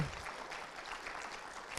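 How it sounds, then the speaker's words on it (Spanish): A church congregation applauding during a worship service, steady faint clapping heard from a distance throughout, with no talk over it. "Dele un aplauso al Señor."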